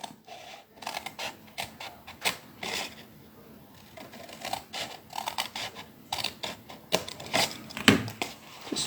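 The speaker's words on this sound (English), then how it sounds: "So just cut that little bit of the score line piece out." Scissors snip and cut through a sheet of A4 card, removing a small scored piece for a simple gift box; quiet irregular crisp snips and rustles at close range, with no talking.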